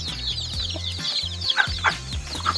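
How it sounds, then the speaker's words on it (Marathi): Large hens clucking nearby on a poultry farm in short, irregular bursts over a steady low background hum. "कोंबडी चांगली आहे बघा मस्त आहे कोंबडी"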